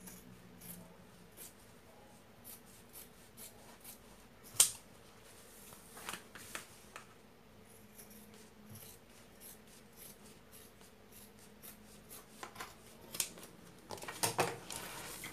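Scissors snip through fabric while a simple everyday bag is being made, giving a series of quiet, close crisp cuts with rustling of cloth and a louder flurry of snips near the end.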